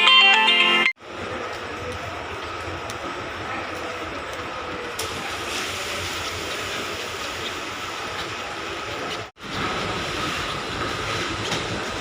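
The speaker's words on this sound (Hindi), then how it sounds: "तो हम लोग अभी पहुंच गए हैं, यही है हमारा ट्रेन" Steady rumble of a train at a Kolkata station, a continuous loud rolling drone broken by two brief abrupt dropouts, with no clear talking.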